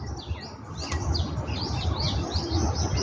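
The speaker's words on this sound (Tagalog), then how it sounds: "nandyan pa yung ibon eh" A bird near its nest gives a series of repeated short, bright chirps over a steady low rumble of background noise, moderately close and without talk.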